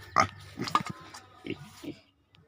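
Several short, close pig grunts in quick bursts, then a pause and a couple more snorting grunts, with a faint click near the end.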